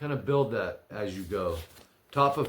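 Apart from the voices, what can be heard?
None of the usual background noises is heard.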